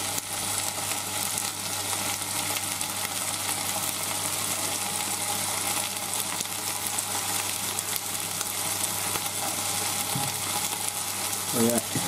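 Onions sizzle and fry steadily in a pan for chicken curry, a dense continuous crackle close by, with a few brief clatters near the end.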